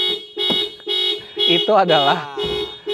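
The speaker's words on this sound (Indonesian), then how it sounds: "Itu adalah bukti bahwa mobil ini dilengkapi dengan sistem alarm." A factory alarm on a Mazda Miata sounds in repeated close, loud electronic chirps and warbling tones, with people talking over it.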